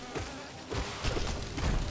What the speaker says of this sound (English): Bees everywhere!